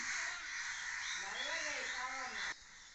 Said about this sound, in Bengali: কিরকম কাকে ডাকতেছে।